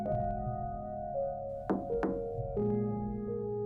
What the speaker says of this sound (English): I clenched my teeth and gave the door 2 firm raps